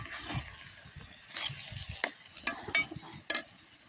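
Menemen with green onion and peppers sizzles and crackles in a hot pan, with scraping stirs and a few sharp clinks of a utensil against the pan.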